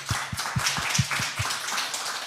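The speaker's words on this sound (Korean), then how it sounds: "하나님 앞에 감사의 박수" A church congregation claps in thanks during a Korean sermon, a run of about seven evenly spaced claps in the first second and a half, then a softer blur of hand noise without speech.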